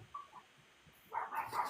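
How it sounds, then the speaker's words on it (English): A dog barks somewhere off-microphone during a podcast recording, a short cluster of faint barks near the end after a quiet stretch. "I'm sorry for the barking"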